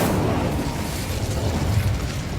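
Incendio fire spell cast in the Hogwarts Legacy video game, a dense, continuous roaring whoosh of flame that stays loud and steady throughout, with no voices over it.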